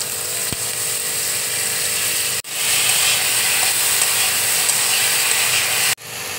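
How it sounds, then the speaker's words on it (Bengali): Soaked moong dal hitting hot oil in a wok gives a loud, steady broadband sizzle for several seconds, broken by two brief dips as the frying continues close by, with no talking. "কড়াইয়ে তেল দিয়েছি, তেল গরম হয়ে গেছে। এবার ভেজানো মুগ ডালটা আমি তেলের মধ্যে দিয়ে দিচ্ছি।"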